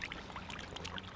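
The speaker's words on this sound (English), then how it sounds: "So what I'm now gonna do is just rinse it" Water runs over a cleaned spider crab being rinsed on the coast: a faint, steady, broadband splashing trickle that continues through the whole moment with no voices.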